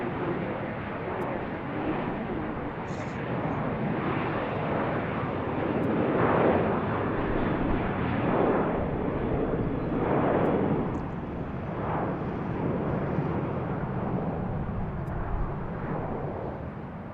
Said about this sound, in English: First we're going to watch this one take off.